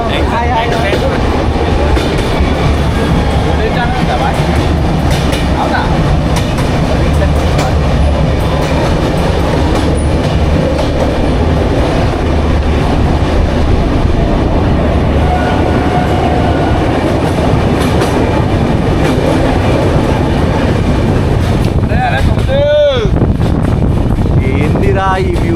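A passenger train bound for Araku rumbles along, carriages clattering steadily and loudly for the whole stretch, with voices talking intermittently inside the coach and a brief squeal near the end.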